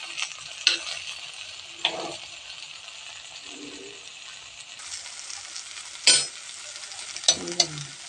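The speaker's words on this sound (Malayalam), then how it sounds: "നമ്മൾ ഇളക്കുന്നു" Brinjal sizzles in a pan while a spoon stirs it, giving a steady soft frying hiss with a few sharp scraping clinks near the start and toward the end.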